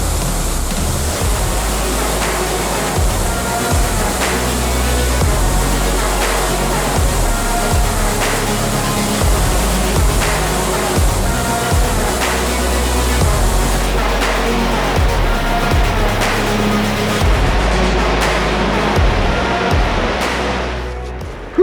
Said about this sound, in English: Really cool waterfall, huh?